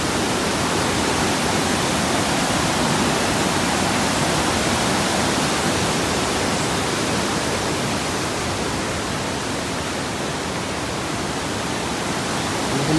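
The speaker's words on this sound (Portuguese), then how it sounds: "Bastante correnteza já." A strong river current rushes steadily along a scenic road between Joinville and Garuva in Santa Catarina, a loud, continuous broadband roar of moving water that holds unbroken and close throughout, with no voices.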